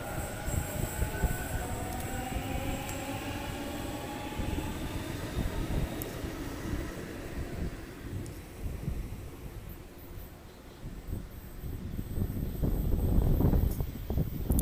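A Sydney Trains A set train pulling away from Denistone station, with a rolling rumble, clattering wheels and a faint squeal, building louder toward the end, no talking.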